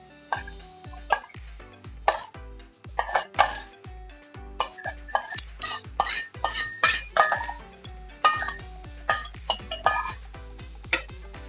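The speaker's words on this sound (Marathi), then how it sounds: "आता मी याच्यात पोवटे आणि बटाटा टाकते" Lima beans (pavta) and potato tipped into a pan of home-style vegetables, heard close as a run of clinks and knocks of utensil against metal pan in uneven bursts, with no talking.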